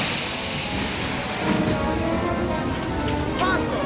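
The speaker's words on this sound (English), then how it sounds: "Reverse the train." A train rolls in reverse through a wartime battle zone, a dense continuous rumble of wheels and carriages with brief metallic squeals near the end and a voice faintly underneath.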